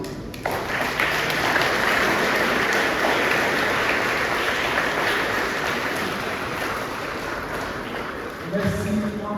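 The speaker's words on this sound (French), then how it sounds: "Je pense qu'ils méritent bien nos applaudissements." A school gathering marking a centenary breaks into loud, sustained applause for the standing teachers, a dense roar of clapping that carries on steadily before a voice and other sounds come in at the very end.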